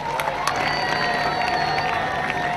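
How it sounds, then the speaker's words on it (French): Steady applause and cheering from a church crowd at a cardinal's catechesis, a continuous wash of clapping with some shouts mixed in. "Nous applaudissons ces bienfaiteurs."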